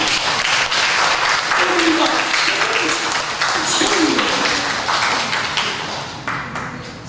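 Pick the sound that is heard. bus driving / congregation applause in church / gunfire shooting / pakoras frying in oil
congregation applause in church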